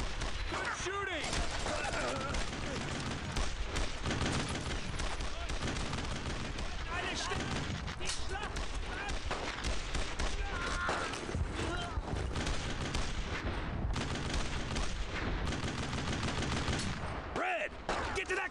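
A sustained firefight in the World War II game Brothers in Arms: Road to Hill 30. Rapid machine-gun bursts and rifle shots crackle densely and loudly without a break, and voices come through under the gunfire.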